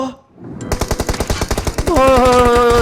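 Rapid automatic gunfire in PUBG Mobile, a close, loud burst of evenly spaced shots that runs continuously for about two seconds, joined near the end by a sustained tonal hum.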